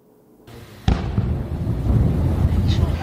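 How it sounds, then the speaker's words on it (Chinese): Explosions from an Israeli airstrike on the southern suburbs of Beirut: a sharp blast after near-silence, followed by a sustained rumbling roar and scattered crackles, loud and close. "这不是烟火，是10月初以色列空袭黎巴嫩首都贝鲁特南部郊区"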